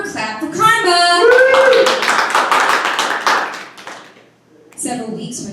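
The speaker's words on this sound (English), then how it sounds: "Clap for karma." An audience claps in a quick cluster of loud hand claps at a live storytelling show, heard between stretches of a speaker talking and fading briefly before the talk resumes.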